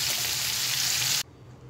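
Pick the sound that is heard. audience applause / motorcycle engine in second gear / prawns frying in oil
prawns frying in oil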